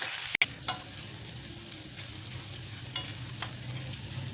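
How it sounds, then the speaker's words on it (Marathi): Finely chopped garlic and ginger fry in hot oil for veg momos, a soft continuous sizzle close by with a sharp clank of a utensil near the start and a few light stirring scrapes. "तेल छान तापले त्यामध्ये लसूण घालायचं बारीक कापलेलं आणि हे आलं मिनिटभर छान परतून घ्यायचं"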